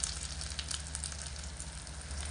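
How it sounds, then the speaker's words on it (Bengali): Garlic, chili and ginger paste sizzling steadily in a hot pan of oil, a close, continuous frying hiss with no voices. "রসুন লঙ্কা সমস্ত কিছু একসঙ্গে একটু লাল করে ভেজে নেব"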